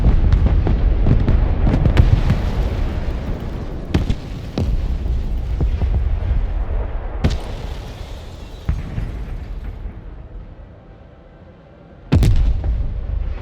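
Heavy explosive impacts from Harrier jets firing Maverick missiles at BMP3 vehicles in the Broken Arrow war game, loud repeated booms over a dense rumbling battle background, with a final sharp blast after a brief lull.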